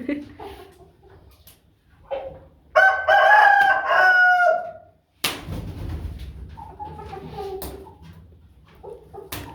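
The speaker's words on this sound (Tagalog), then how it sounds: "Mga manok." A rooster crows loudly once, a long rising call, amid scattered clucking and a sharp bang, with quiet voices nearby.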